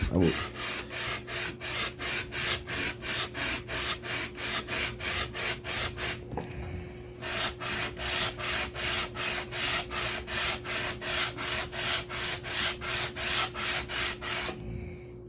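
An Optimus water block is lapped by hand on sandpaper, giving steady rhythmic back-and-forth scraping strokes, close and loud, with a short pause midway and no talking.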